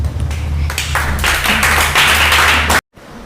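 A crowd of students claps together loudly and steadily for a few seconds at a school prize distribution event, with a low hum beneath, before the applause cuts off abruptly.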